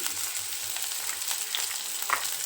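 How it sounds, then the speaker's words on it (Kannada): A small onion frying in about a spoon of oil in a pan, producing a steady crackling sizzle with occasional sharper pops, close and moderately loud. "ಒಂದು ಸಣ್ಣ ಗಾತ್ರದ ಈರುಳ್ಳಿನ ಹಾಕ್ಕೊಂಡಿದ್ದೀನಿ."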